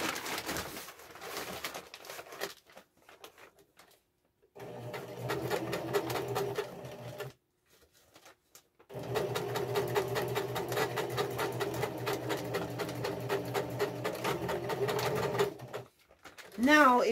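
A sewing machine stitches a round tarp slip-on cover in two long, steady runs of rapid close whirring, separated by quiet pauses with pigeons cooing in the background.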